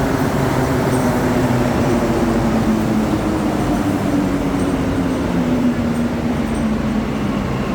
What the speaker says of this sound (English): Maybe this is a deadheading train.